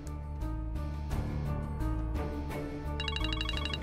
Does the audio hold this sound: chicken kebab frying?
no